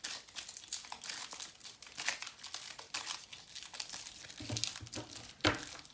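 Tarot cards being shuffled and drawn, a steady papery crinkling and riffling with soft slaps and a sharper snap near the end, close and fairly quiet.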